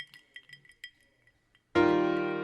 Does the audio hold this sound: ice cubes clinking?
yes